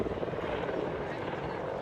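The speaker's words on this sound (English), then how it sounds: "Look at the maneuverability of this helicopter." A helicopter's rotor thrums loudly and steadily overhead during an air show display of tight manoeuvres, a dense continuous chop with no pause.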